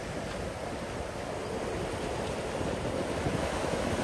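Sea surf washing steadily against the rocky shore at Itajaí, Santa Catarina, a continuous broadband roar of breaking waves with some wind buffeting the microphone, close and loud throughout.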